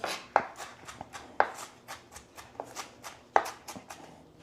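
Knife chopping onions on a cutting board in a home kitchen, a steady run of crisp, close taps with several harder, louder strikes mixed in.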